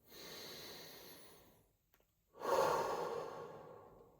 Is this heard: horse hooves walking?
no